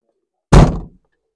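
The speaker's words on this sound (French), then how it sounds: "vrai bruit de fermeture de porte" A single solid thunk as the door of a Lancia Ypsilon Rally 4 HF car is shut, loud and close, decaying quickly into silence.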